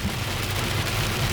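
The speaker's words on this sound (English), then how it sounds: "Let the rain never stop." Rain falls on a car in a steady dense hiss, with a low, continuous rumble underneath and no break or change through the stretch.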